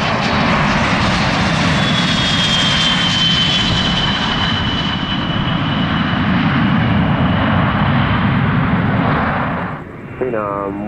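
A business jet landing at Scottsdale Airport on runway 21, its loud, steady jet roar filling the air with a whining tone that slowly fades near the end, with a radio voice heard over it.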